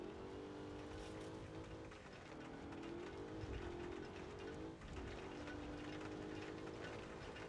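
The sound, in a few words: Pro 4 off-road truck engine in video game BeamNG.drive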